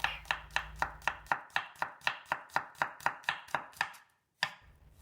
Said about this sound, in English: Then you slice the garlic.